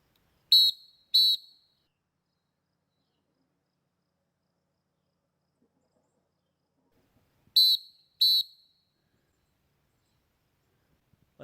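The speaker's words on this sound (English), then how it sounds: "2 blows of a whistle is here I am." Two pairs of sharp, high blasts from a SOL Rescue Howler whistle, each pair a quick double toot, separated by several seconds of silence.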